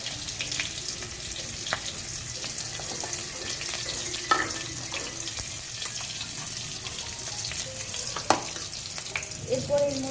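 Asafoetida (hing) sizzles in hot oil for a vegetarian dish, a steady soft frying hiss broken by a few sharp clinks and stirring knocks, with quiet kitchen clatter toward the end.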